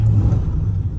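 A 1941 Cadillac Series 67 engine turns over and catches, settling into a deep, close, steady rumble with no voices.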